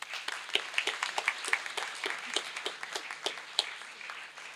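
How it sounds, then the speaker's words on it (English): An audience at a graduation ceremony gives steady, moderate applause in a large hall, with many hands clapping evenly and no speech over it. "So I would like you all to give him a round of applause, please."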